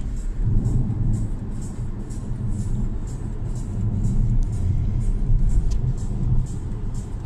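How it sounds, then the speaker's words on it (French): A Tesla Model S 70D electric car on the move, heard from inside as a steady low road rumble and tyre noise with a soft hiss, no engine note and no voices. "Donc Grégory, tu es au volant de la Model S"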